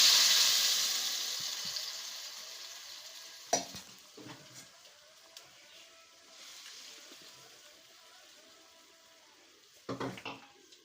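Ground paste for tomato kulambu poured into a hot pan and stirred, a soft sizzle fading under occasional scrapes and clinks of a spoon against the pan.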